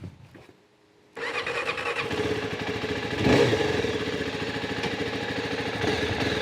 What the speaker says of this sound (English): let's take it for a quick spin around the yard